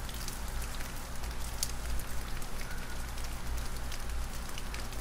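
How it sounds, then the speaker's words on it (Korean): Light rain starting to fall outdoors: soft, continuous patter of scattered raindrops with occasional sharper drips, steady and fairly faint throughout, no voices. "It began to sprinkle."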